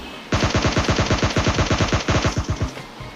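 In PUBG Mobile Lite, an automatic weapon fires one rapid, evenly spaced burst of roughly twenty loud, close shots, with brief quiet before and after.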